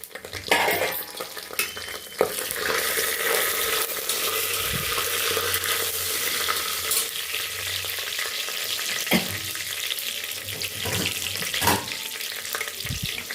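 Biryani ingredients fry and sizzle in hot ghee in a pan, with a steady crackling hiss and the scrape of a spoon stirring at intervals, close and continuous.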